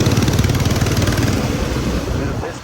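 A motorcycle engine idles close by with a rapid, throbbing pulse that gradually fades slightly, and no voices are heard.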